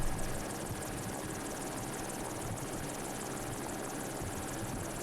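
A helicopter lifting lumber over the Grouse Grind trail, its steady rotor thrum and engine whine filling the air continuously, loud and close overhead, with no other sounds.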